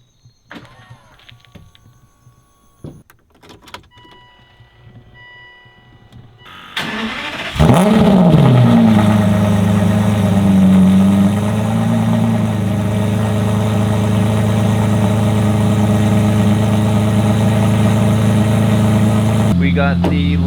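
An Aston Martin V12 Vantage S cold-starts after a few quiet seconds of clicks, the V12 catching with a loud flare that settles into a steady, rumbling idle held close by for the rest of the stretch.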